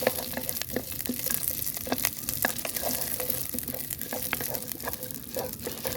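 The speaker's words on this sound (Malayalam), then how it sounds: "സവാള കുറച്ചങ്ങ് ഇട്ട് കൊടുത്തൊന്ന് ചെറുതായിട്ടൊന്ന് വാടി വന്നു" Sliced onion sautéing in a pan for gobi manchurian, a continuous close sizzle broken by frequent crisp clicks and scrapes of stirring.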